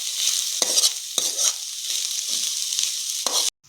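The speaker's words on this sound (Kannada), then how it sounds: "ಮೆಣಸಿನ್ಕಾಯಿ ಅದೆಲ್ಲ ಚೆನ್ನಾಗಿ ಹುರ್ಕೊಂಡ್ಮೇಲೆ ಇವಾಗ ಈರುಳ್ಳಿನ ಚೆನ್ನಾಗಿ ಹುರಿಯಿರಿ." Onions and green chillies frying in a pan for a momo filling, a steady close sizzle with a few sharp stir-scrapes of a spoon, ending abruptly.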